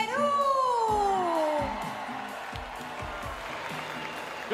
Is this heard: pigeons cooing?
no